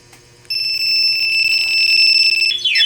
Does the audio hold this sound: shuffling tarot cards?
no